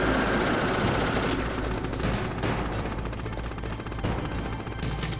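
Rapid bursts of automatic gunfire in the video game Metal Gear Solid rattle steadily throughout, dense and continuous, with a helicopter-like drone mixed in beneath the shots.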